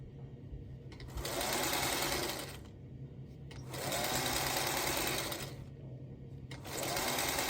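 Sewing machine stitching a simple quilt block, running in three steady bursts of rapid whirring with brief pauses between runs, close and fairly loud with no talking.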